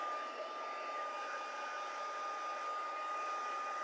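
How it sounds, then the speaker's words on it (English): A hair dryer blowing on the back of a stamped paper card, a steady, even whirring hiss with a faint constant whine, close and uninterrupted, with no voices. "I'm going to dry the back because I need to add some tear and tape."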